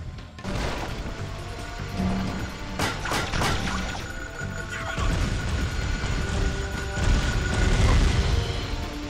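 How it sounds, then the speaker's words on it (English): Repeated explosion-like booms and crashes from a game, loud and dense, with sharp bursts around the middle over a constant rumbling din and no talk. "What's with all these explosions, man?"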